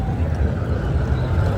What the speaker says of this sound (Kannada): ಬೋಟಿನ ಸ್ಟಾರ್ಟ್ ಆಗಿದೆ